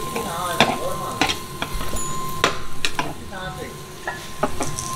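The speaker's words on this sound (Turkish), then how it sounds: "Böyle köfte yağın içine atıyorsun bir de kurumasını da önlüyor yani" Köfte meatballs fry in oil at a street food stall, crackling and sizzling with repeated sharp scraping and stirring strikes spaced through the clip, loud and close.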